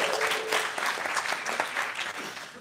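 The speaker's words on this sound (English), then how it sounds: "clap your hands if you had a good time" An audience at a beer conference keynote claps hands in a short, lively burst of scattered, moderately loud applause.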